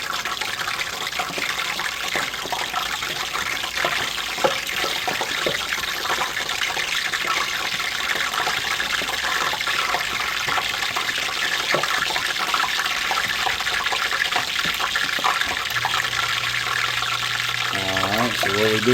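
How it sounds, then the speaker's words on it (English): Spoonfuls of water dropped into hot frying oil set off a loud, continuous crackling sizzle with bursts of popping, and a low hum near the end. "Alright, we're going to do our water test with this oil,"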